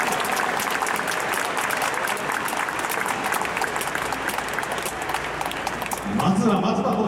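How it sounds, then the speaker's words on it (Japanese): Stadium crowd applauding at a baseball hero interview, a steady wash of clapping throughout, with an announcer's amplified voice over it near the end. "どうぞ拍手をお願いいたします。"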